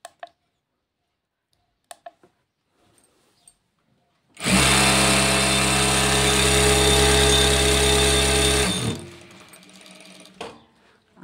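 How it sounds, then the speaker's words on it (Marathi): A new domestic tailoring sewing machine runs at high speed, around 4000 stitches per minute, a loud steady whirring drone lasting several seconds, preceded and followed by scattered soft clicks and handling noises. "तर बघा 4000च्या स्पीडने ही मशीन कशी पळते मी तुम्हाला दाखवते"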